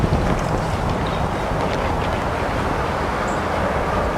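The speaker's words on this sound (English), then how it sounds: "It looked like Mike stepped up to a disc with a little more stability there to combat that left-right wind" Steady, loud wind buffets the microphone on an outdoor disc golf course in Bowling Green, Kentucky, producing a constant rumbling roar with no voices.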